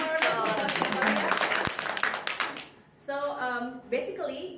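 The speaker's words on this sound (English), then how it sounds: "Let's give applause for Natalia." Audience applause at a Toastmasters club meeting, broadband clapping filling the first three seconds and then giving way to a voice speaking over the tail as it fades.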